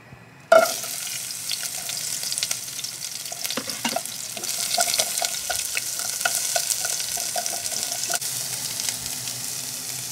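Spareribs stir-frying in hot oil over high heat in a wok, a loud, steady sizzle and crackle that starts abruptly and keeps on with scraping stirs and small pops throughout.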